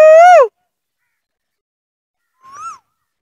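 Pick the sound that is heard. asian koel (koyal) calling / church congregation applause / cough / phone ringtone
asian koel (koyal) calling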